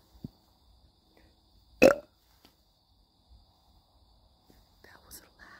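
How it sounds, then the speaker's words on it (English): A single short, loud burp breaks an otherwise quiet stretch, followed by faint whispery breaths and small rustles. "coffee burp, hold up"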